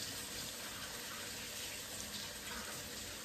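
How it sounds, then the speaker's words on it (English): Steady running water from a sink faucet pours continuously while hands are washed in a home kitchen during cooking, a constant broadband hiss with no pauses. "I'm going to wash my hands real quick."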